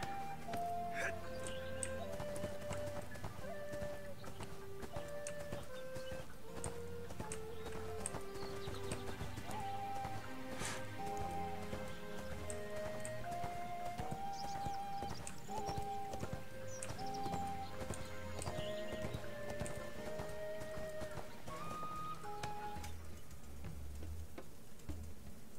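A horse's hooves clip-clop at a steady pace in the video game ArcheAge, faint beneath continuous background music.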